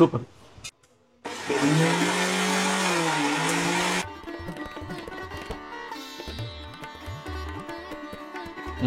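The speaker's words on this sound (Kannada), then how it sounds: "ಈಗ ಇದನ್ನ ರುಬ್ಕೊಂಡ್ಬಿಡೋಣ." A mixer grinder whirs loudly and steadily for a few seconds as it grinds chilli, garlic and pepper into a coarse masala, stopping abruptly before background music takes over.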